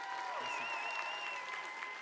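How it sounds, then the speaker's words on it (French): Steady clapping from a crowd at an anime awards ceremony at Japan Expo, dense and continuous, with a faint melodic tone or whistle running above it. "Petits applaudissements pour Japan Expo s'il vous plaît."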